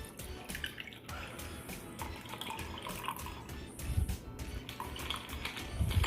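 An Amaretto sour is poured from a shaker with metal ice cubes into a glass, giving a soft, trickling liquid splash with faint clinks, quiet and close over light room noise.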